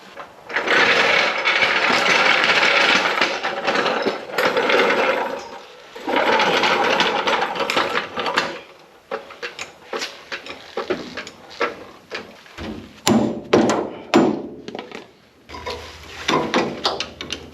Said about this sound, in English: that was only one little pump on the jack